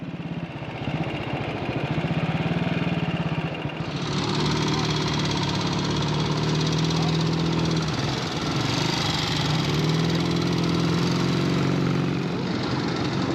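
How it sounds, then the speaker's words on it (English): Classic BSA motorcycle engine running at a steady mid-range pace, a continuous close throbbing hum that shifts slightly in pitch as revs change, with little else heard. "It's quite a nice engine, not really that buzzy until you take it to quite high RPM."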